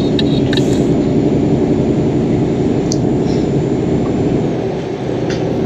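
A truck's engine drones steadily as it drives in Euro Truck Simulator 2, a loud low rumble with occasional faint clicks and a brief dip near the end.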